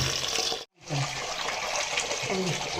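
Running tap water while fish and prawns are washed, a steady close splashing hiss broken by one brief gap, with faint sloshing and handling sounds through it.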